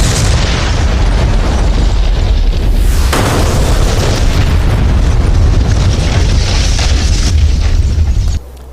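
A Kh-58 anti-radiation missile explosion in the DCS World combat flight simulator, heard as a loud, sustained rumbling boom with a roaring blast swell midway, continuing for several seconds before cutting off abruptly.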